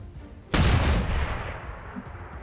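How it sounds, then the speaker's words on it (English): A flashbang grenade in XCOM 2 goes off with a single sudden loud blast, followed by a decaying roar and a high-pitched ringing tone. "Give us a flashbang"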